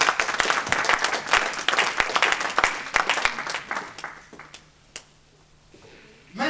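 A church congregation applauds with dense, steady clapping for several seconds, then the applause thins out and fades to a few scattered claps near the end.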